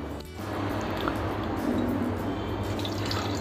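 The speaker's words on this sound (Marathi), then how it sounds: "सगळं पाणी असं गाळून घ्यायचं आणि दुसरं याच्यामध्ये पाणी घालायचं" Clam cooking water is strained off in a home kitchen: a steady pouring, draining wash of liquid at moderate loudness runs continuously for a few seconds, with a brief dip near the start.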